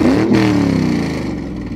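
A Ford Mustang's V6 engine revs loud and close in a shop, a throaty roar that swells and then settles into a steady rumble.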